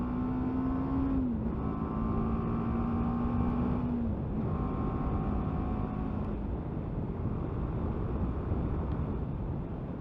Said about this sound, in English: This engine's got quite a bit of go in it.